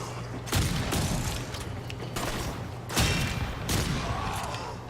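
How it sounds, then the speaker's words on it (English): Twin Roga shotgun pistol fired in Warframe, several loud, heavy booming blasts spaced about a second apart, each trailing off over a continuous low mechanical hum. "Get the Twin Roga out. Bam! Shotgun pistol of death."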